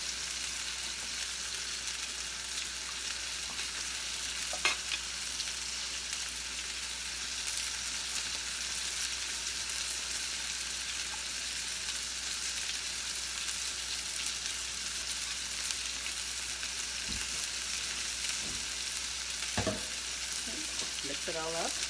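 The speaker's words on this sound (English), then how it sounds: "now we're going to add the can of tomatoes in there." Canned tomatoes frying and being stirred in a pot for sopa de fideo, a steady, soft sizzle and crackle with occasional faint utensil scrapes, continuous and fairly quiet throughout.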